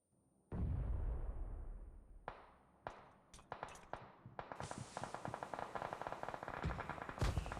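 Gunfire in a video game shooter: a heavy boom, then scattered sharp single shots, building into rapid dense bursts of automatic fire, loud and close, no talking.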